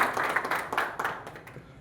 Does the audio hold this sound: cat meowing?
no